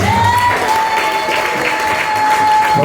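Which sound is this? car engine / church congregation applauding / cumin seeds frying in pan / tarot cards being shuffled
church congregation applauding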